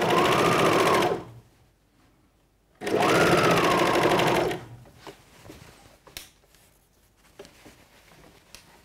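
A serger stitches elastic onto a swimsuit in two loud, steady bursts, about a second and then nearly two seconds long, separated by a pause; afterwards only faint handling clicks and rustles remain.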